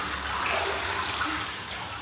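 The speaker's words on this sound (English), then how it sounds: "you use it to mix the water to make sure all the good minerals from the hot spring water are moving throughout the hot tub" Mineral-rich hot spring water in a hot tub in Sapporo, Hokkaido, is stirred, giving a steady, close, rushing slosh with no voices.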